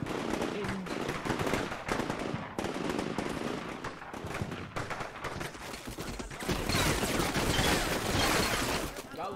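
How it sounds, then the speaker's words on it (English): A war game section returning fire from cover: continuous loud bursts of rifle and machine-gun fire crackle and overlap throughout, intensifying toward the end, with no pauses between volleys. "Section immediately starts returning fire."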